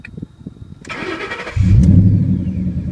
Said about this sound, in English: let me open the door so you can hear the exhaust here, because it is loud